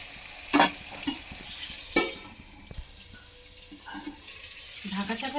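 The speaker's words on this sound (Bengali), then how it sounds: "এবার এখানে ভেজে নেওয়া ডিমটা এর মধ্যে দিয়ে দেব ভালো করে মিশিয়ে নেব" A spoon stirs fried egg into sizzling masala in a pan, with scraping clicks and a steady frying hiss underneath, close and moderately quiet.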